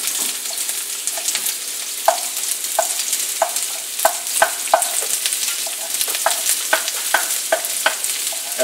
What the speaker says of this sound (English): Okay, saute those a little with that, and then in goes my onion.